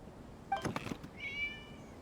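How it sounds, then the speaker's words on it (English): A cat meows in the video game Genshin Impact, one short clear meow followed by a second drawn-out one, fairly faint over a quiet background. "It was just a cat."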